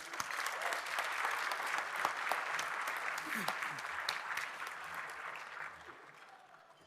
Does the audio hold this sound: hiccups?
no